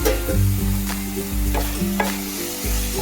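Paneer stirred with condensed milk in a hot pan for a Bengali sweet, a spoon scraping in repeated strokes over a continuous soft sizzle, close and clear with no talking.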